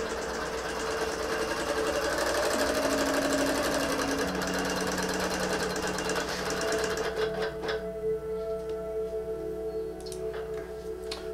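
A longarm quilting machine stitches a quilt with a rapid, steady mechanical ticking and motor hum, loud and close. Near the end it changes pace as it ties off with a knot, with a few sharp clicks.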